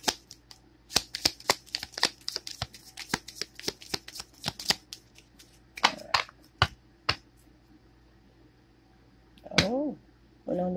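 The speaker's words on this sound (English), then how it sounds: "Two shuffles. One more shuffle, please." Tarot cards are shuffled close by in a quick series of crisp riffling and snapping bursts. A short pause follows, then a brief voice near the end.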